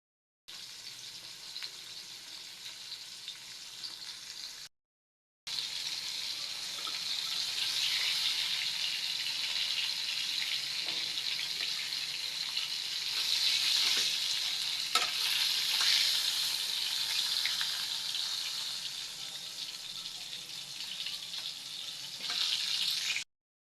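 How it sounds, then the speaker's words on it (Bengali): Fish sizzle steadily in hot oil in a pan, a dense, even hiss that holds loud and continuous after a brief gap near the start, with no talking. "তেলটা আমার খুব সুন্দরভাবে গরম হয়ে গেছে। এবার আমি মাছগুলো দিয়ে দিব।"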